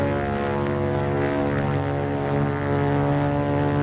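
A propeller-driven aircraft engine drones steadily in flight, a loud, even hum with no talk over it, from a wartime film on spotting Japanese Zero fighters.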